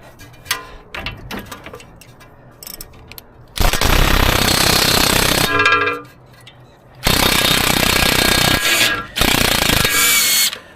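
Impact tool loosening a lug nut by socket on a Mercedes-Benz W212 E250 4matic front wheel: loud harsh hammering bursts of a few seconds each, separated by short pauses, very close.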